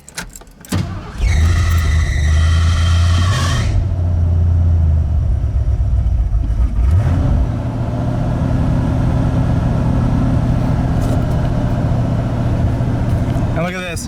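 A junkyard Ford bullnose truck, recently swapped from EFI to a carburetor, cranks and fires up, then runs with a loud, low, steady engine drone while being backed into place.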